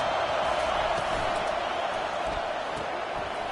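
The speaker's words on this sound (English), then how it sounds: "Listen to this crowd just shaking the girders of this place trying to help their defense." Dense, steady roar of a packed stadium crowd at a Georgia college football game, continuous broadband noise with faint scattered shouts, loud and unbroken throughout.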